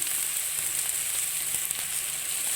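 An onion, tomato and spice masala sautés in a pan for egg kothu idli, making a steady, even hiss of frying that continues without pause or voices.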